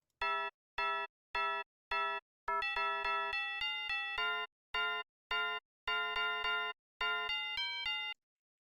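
Bright tubular bells in a music track strike in a rhythmic pattern, first as single chimes and then as faster layered runs with ringing overtones, clean and isolated with nothing else playing.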